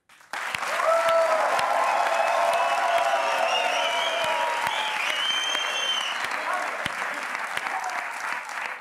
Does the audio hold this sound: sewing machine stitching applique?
no